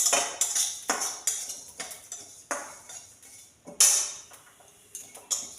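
Roasted spices for a kul (jujube) pickle being scooped from a pan into a bowl: a series of sharp metallic clinks and scrapes of a spoon against metal, spaced irregularly, close and fairly crisp over a quiet background.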